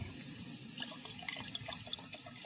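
Water pouring and trickling into a cooking pot outdoors, soft and close, with faint scattered drips over a quiet background.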